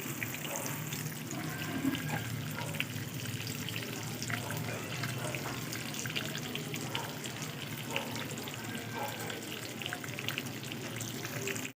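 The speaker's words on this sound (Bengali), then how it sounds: "এবার পুরোপুরি সব বেগুনগুলো লাল লাল করে ভেজে নিয়েছি" Eggplant pieces fry in oil in a pan, giving a steady, dense crackling sizzle at low volume that runs unbroken throughout with no talking.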